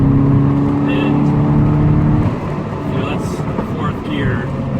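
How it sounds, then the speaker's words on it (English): Lotus Esprit V8 engine under load with its turbos spooling up, a steady loud drone heard from inside the cabin that dips slightly midway, with faint whistling rising over the rumble. "You can hear the turbo spooling up behind you."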